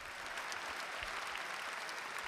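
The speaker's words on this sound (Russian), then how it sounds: "Ваши аплодисменты" Dense applause from a KVN comedy show audience fills the hall as a team takes the stage, steady and sustained clapping with no talk over it.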